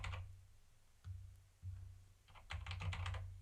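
Keys clacking on a computer keyboard during a C64 Ultimate firmware upgrade, a few sparse quiet taps followed by a quicker burst of keystrokes, close and alone.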